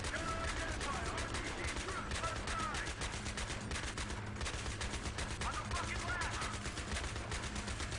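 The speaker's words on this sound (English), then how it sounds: "I'm driving with my foot right now while shooting on the 50 cal." Rapid, sustained machine-gun fire from a .50 cal in Battlefield 3 during a vehicle assault mission, a dense chattering burst running continuously over game noise and battle sounds.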